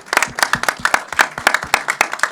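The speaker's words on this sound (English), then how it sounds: "Give him a round of applause, man" A small audience at a live summit session claps for a questioner, rapid, loud hand claps in a quick uneven rhythm, near and dominant, with no talk over them.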